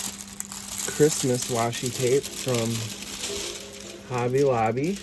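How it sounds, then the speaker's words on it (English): Christmas washi tape is handled and pressed down with faint crinkling and rustling, mostly under a voice talking throughout. "We do have a little bit of an overpour, so I'll put some washi tape on it"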